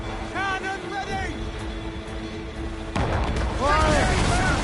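A ship's cannon booms once in a naval battle in Assassin's Creed Rogue, a sudden heavy blast over rumbling sea and wind, with shouting crew voices before and after it.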